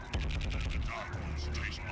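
In the 1998 Warhammer 40,000 video game Chaos Gate, an assault cannon fires a rapid string of close shots, then bolter fire follows with fainter scattered bursts while someone talks over it.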